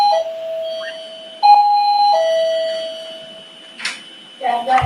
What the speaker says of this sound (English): I can hear your doorbell going.